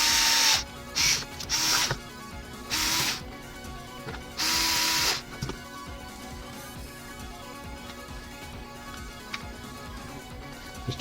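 A small electric screwdriver drives screws with spacers into a VU7 ameriDroid tablet, giving five short, bright whirring bursts in a row, followed by quieter clicks and handling noises.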